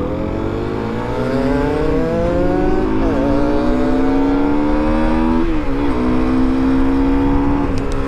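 A Derbi GPR 125 motorcycle with a 125cc engine runs steadily and loud while being ridden, its engine note rising and shifting through gears with brief dips where the rider changes up, no voices over it.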